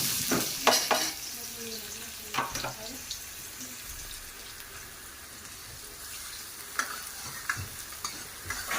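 Chopped onions fry in a pan on a gas stove with a steady close sizzle, punctuated by clattering stirs and scrapes near the start and a few more later.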